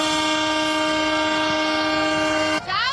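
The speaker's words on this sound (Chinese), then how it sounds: "列车到底要来啊！" A train moves slowly along railway tracks lined with onlookers, blaring a long, loud, steady horn close by over a low rumble before the horn breaks off near the end.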